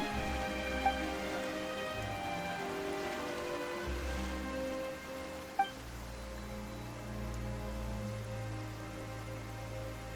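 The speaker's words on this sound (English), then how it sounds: "Why is it raining all of a sudden?" Steady rain falls in the Genshin Impact game world, a soft continuous patter that carries on alone with no talk, broken by a couple of brief faint clicks.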